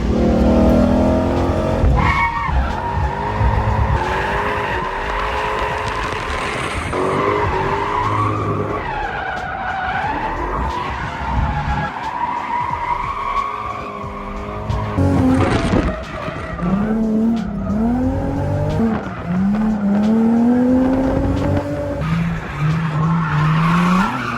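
Lexus GS300 drifting at a track, engine revving hard and rising and falling with repeated long tire squeals and skids, loud and continuous throughout with no talk.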